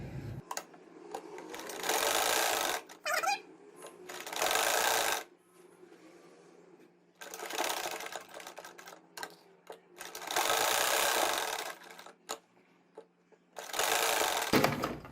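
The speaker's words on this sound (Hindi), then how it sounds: "चलिए अब स्टिच करते हैं।" A sewing machine stitches the neckline of a garment in several close, loud bursts of rapid mechanical chatter, separated by quiet pauses with soft handling of fabric.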